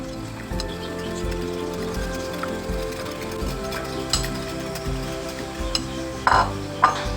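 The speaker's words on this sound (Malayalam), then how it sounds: "ഒരു സ്പൂണോ അല്ലെങ്കിൽ ഇതുപോലത്തെ എഗ് മിക്സറോ ഉപയോഗിച്ചിട്ട് നല്ലപോലെ മിക്സ് ചെയ്യും" A spoon or egg mixer stirs homemade bird breeding formula in a bowl, producing soft repeated scraping and clinking strokes in an uneven rhythm, with a few sharper knocks near the end.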